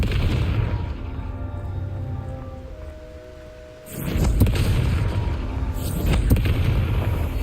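A Confringo fire spell explodes in Hogwarts Legacy on PS5, two loud booming bursts with crackling tails after a quieter stretch of low rumbling game ambience, no voices.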